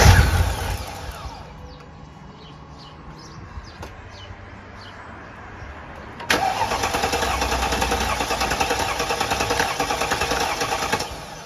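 A Mercedes ML55 AMG engine runs with its fuel pump removed, a steady mid-pitched hum that jumps louder about halfway through and holds there, with no talking.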